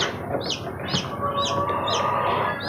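Young chicks peep loudly and repeatedly, a rapid series of high, piercing cheeps coming close together over a steady background, no talking.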